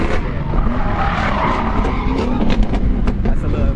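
A Ford Mustang GT drifting at a drift event, its tires skidding and squealing loudly and continuously against a roaring engine for the whole stretch, close and full.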